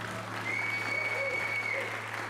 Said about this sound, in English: I want you to give a round of applause to Matthew over here on piano.